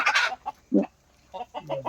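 Young chickens cluck in a few short, separate bursts with brief gaps between them, close and fairly clear, with no talking.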